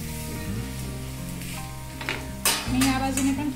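Thalipeeth flatbread frying in Amul butter on a pan after being flipped gives a soft steady sizzle, broken by a few sharp clanks and scrapes of a spatula near the end.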